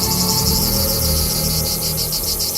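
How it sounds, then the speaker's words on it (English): A dense, steady insect buzz of cicadas fills the whole stretch, pulsing rhythmically at high pitch over a low rumbling background. "Cicadas, yeah."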